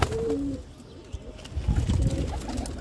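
Pigeons coo softly in a loft where the birds are nesting on eggs, a few low warbling calls over rustling and faint shuffling, with a brief higher chirp near the start.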